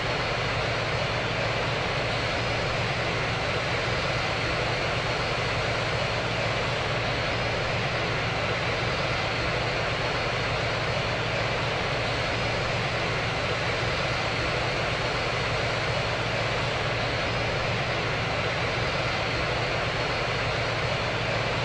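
An airplane engine drones steadily in flight in the RFS flight simulator game, a loud, unbroken broadband roar with no pauses.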